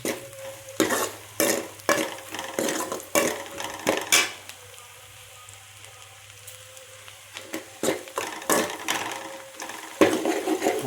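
A spoon stirs fish curry masala with ginger and garlic in a pan, repeated scraping strokes against the metal over a low sizzle, with a quieter pause midway before the stirring resumes, close by.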